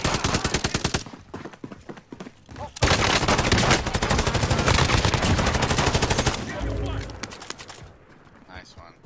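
Loud, sustained bursts of rapid automatic gunfire from other players in an online shooter game, running almost continuously before stopping abruptly near the end. Voices are mixed in underneath.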